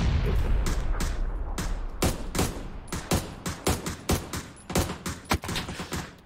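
Rapid, loud gunfire bursts in the PUBG video game Desert Knights event mode, including an AWM sniper rifle, with repeated sharp shots over a dense, booming battle background and no voices.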